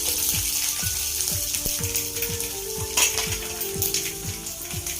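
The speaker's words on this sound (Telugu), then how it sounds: "వెల్లుల్లిపాయలు వేసుకుందాం. ఇలా పచ్చట్లో వేసుకున్నాం కదా, ఇప్పుడు తాలింపులో కూడా వేసుకుందాం." Garlic crackles in hot tempering oil for a mint chutney, a steady soft sizzle punctuated by a regular series of dull clicking taps, fairly quiet and with no voices.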